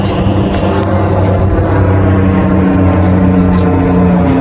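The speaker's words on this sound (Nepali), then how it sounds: "गाइस हावाई जहाज" An airplane near the airport in Mustang, Nepal, heard as a loud, continuous engine roar that fills the whole stretch without letting up.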